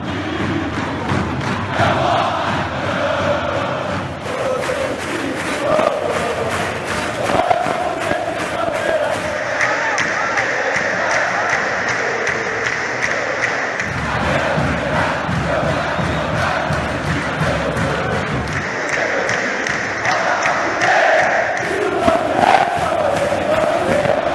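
Brazilian football supporters in the stands chant a samba together, a massed, roaring crowd singing in rhythm continuously for over twenty seconds, loud and reverberant, with the chant rising and swelling throughout.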